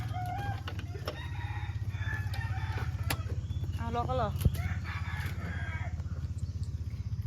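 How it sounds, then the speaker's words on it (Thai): Rooster crowing at a rural Thai farmhouse in Suphanburi, a few calls rising over a steady low engine-like hum, with a person speaking briefly in the clip. "ได้ยินเสียงไก่ขันตลอดเลย"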